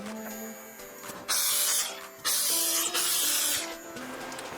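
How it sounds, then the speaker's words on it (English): A small grinder works on the sidewalls of a miniature wire model, three bursts of bright hissing grinding, each about a second long, separated by short pauses filled with a whining motor tone. "So I'm going to use the grinder to do this and the file."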